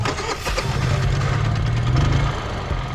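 Gas-powered sidewalk scarifier grinder used in street maintenance, starting up and running with a steady low engine rumble and broadband grinding noise, close and loud throughout.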